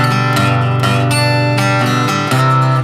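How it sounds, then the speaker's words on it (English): An acoustic guitar plays a picked-chord pattern from the intro of a song, striking the low bass note and then the upper strings in a steady, bright, ringing rhythm, close and solo. "he uses this picking technique like this."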